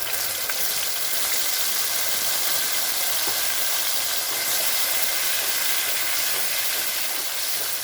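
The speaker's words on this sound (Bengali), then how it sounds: "এখন দিয়ে দেব টমেটো বাটাটা" Tomato paste frying in a pan over a low gas flame, a dense, steady hiss and crackle that holds evenly throughout, close up with no talk.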